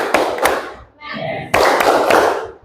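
Rhythmic group clapping from a classroom tepuk topologi clapping game, with two bursts of fast, patterned claps and slaps separated by a brief pause where voices chant.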